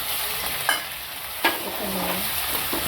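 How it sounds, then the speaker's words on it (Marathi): Cumin, asafoetida and green chillies sauté in a hot pan for a mushroom masala, giving a steady soft sizzle with a few brief stirring clinks. No talking. "आता मी जिरं टाकलं थोडासा हिंग टाकायचा आणि हिरवी मिरची परतून घ्यायची चांगली"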